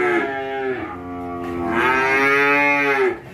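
Cattle at a cow farm moo loudly and close, one long drawn-out call, then a short break and a second rising moo, with no voices over them.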